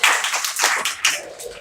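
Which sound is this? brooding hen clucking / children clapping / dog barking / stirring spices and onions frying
children clapping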